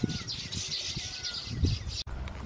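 Pigeons and sparrows chirp close by outdoors, repeated short tweets over low cooing and rustling, with a sharp click near the end.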